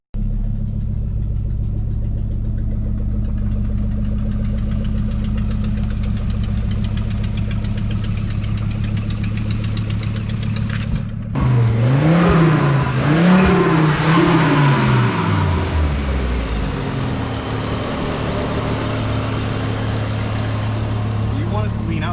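A Volvo engine idles steadily after a timing check, its low, even hum running throughout; about halfway in, a louder, rising and falling tone swells briefly before settling back to the idle drone.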